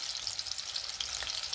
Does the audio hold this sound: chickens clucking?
no